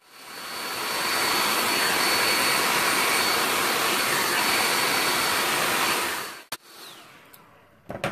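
A hair dryer blows steadily while drying stretched hair, a loud, even whooshing rush that holds for several seconds and then cuts off, followed by faint clicks and handling.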